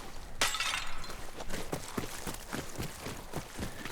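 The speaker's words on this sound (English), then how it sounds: "Just gonna throw it against the wall." A bottle smashes against a wall in Ghost of Yotei, a loud, sharp burst of breaking glass, followed by a steady run of hoof-like or footstep thuds under continuous game ambience.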